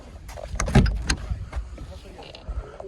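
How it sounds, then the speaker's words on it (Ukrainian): Power windows on a Volkswagen Passat B7 run in short whirring bursts mixed with small clicks and thumps inside the car; faint voices sit underneath. "Має 4 скло підіймача."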